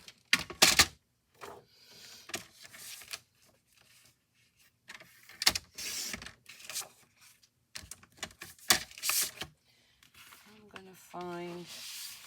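Scrapbook paper from a Secret Garden kit sliced in half on a paper trimmer, a few short sliding scrapes and taps close by, separated by quiet gaps.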